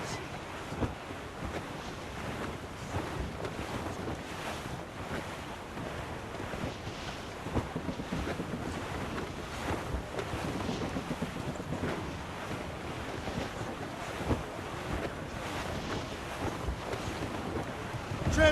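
Constant wind buffeting and rushing ocean waves surround a sailing ship at sea in Assassin's Creed Rogue, with a steady, dense roar and no distinct voices throughout.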